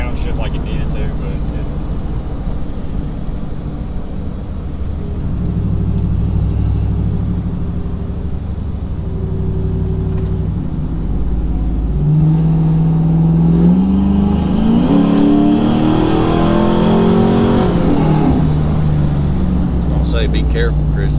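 An LS-swapped OBS Ford truck heard from inside the cab, a loud steady engine drone that rises into a climbing rev as it accelerates, with people talking over it.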